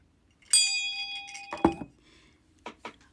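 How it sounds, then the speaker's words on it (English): A single symbolic bell struck once, its bright, sustained metallic ring decaying over a second or so, followed by a few soft clinks and light knocks. "This bell is very symbolic"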